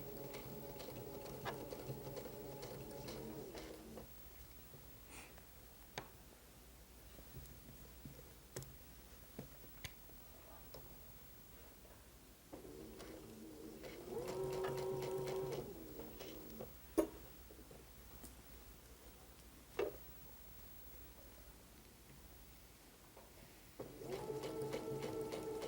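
A sewing machine stitches a Dahlia quilt seam in short, quiet bursts separated by pauses, with soft clicks and fabric handling in between, all fairly faint.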